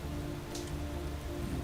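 Rain in the video game Space Engineers, a continuous hiss of falling drops over a low steady hum, with one brief brighter patter partway through.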